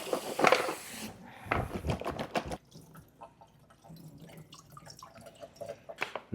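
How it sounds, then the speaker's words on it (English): Cut potatoes rinsed in cold water in a metal tin, with a splash and pour near the start, then watery clinks, drips and sloshing as they're swirled, close and fairly quiet. "I'm gonna put them in this tin, rinse them in some cold water,"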